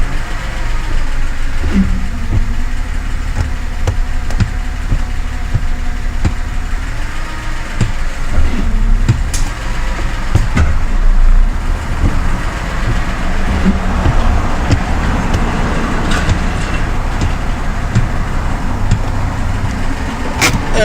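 A Ford car with a BTR M74 four-speed automatic transmission idles steadily nearby, a low even engine rumble with occasional clicks and knocks over about twenty seconds.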